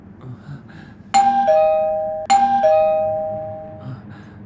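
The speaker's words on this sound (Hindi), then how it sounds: "क्या बताऊं सुची, दरवाजे की घंटी भी बजती है तो खोलने में डर लगता है मुझे।" A doorbell rings twice, each press giving a loud, clear ding-dong chime that rings out and fades, with a low indoor murmur in the background between the rings.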